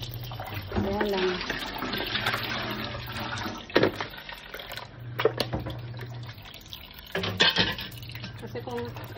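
Cut chicken pieces are swished and rubbed in water in a basin, with sloshing and splashing alongside a few sharp knocks of the container, and a voice speaking at times over the washing.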